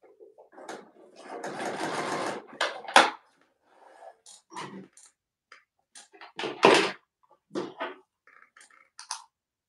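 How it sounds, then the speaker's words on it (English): A domestic sewing machine stitches a boxy bag in short bursts, with a longer whirring run early on and then brief stop-start runs and clunks between quiet gaps. "I feel like my machine sews better with my jelly side up."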